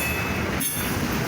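A CSX freight train hauling rock carrier cars rolls past a station, giving a loud, continuous rumble with the rattle of wheels on rail close by.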